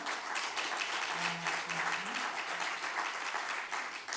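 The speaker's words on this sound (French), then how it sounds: "je vous demande d'applaudir ces deux personnes" A conference audience gives two panel speakers a full round of applause. The clapping is dense and continuous at an even, moderate level throughout, with a faint voice low underneath.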